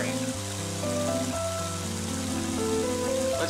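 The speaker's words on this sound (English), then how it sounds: "And now it's starting to rain." Rain begins falling in the video game Mother 3, a steady even wash of rainfall under game music with sustained tones.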